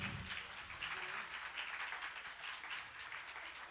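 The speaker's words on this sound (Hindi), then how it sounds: "तालियां बजती रहे तो ज्यादा अच्छा है।" Sustained applause from a gathering at a live Shree Mad Bhagvat Katha in Agra greeting a guest, a continuous even wash of many hands clapping at moderate distance.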